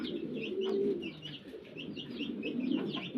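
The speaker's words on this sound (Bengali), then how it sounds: "বাচ্চা সহ কোকা কবুতর" Koka pigeons, a pair kept with their chicks, coo in low, soft repeated calls at close range, with faint chirps in the background and no talking.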